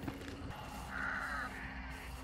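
Crows caw from the trees beside bayou water, a couple of harsh calls rising midway over a constant background hiss, moderately distant.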